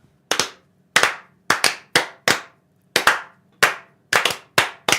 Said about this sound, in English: This is how the clapping part goes.